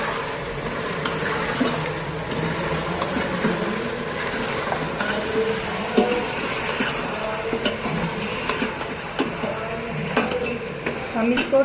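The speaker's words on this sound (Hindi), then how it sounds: "हम इसको 10 से 15 मिनट भूनेंगे।" Mutton roasting with cumin in a karahi sizzles steadily under repeated clinks and scrapes of a spoon against the metal pan, all fairly close.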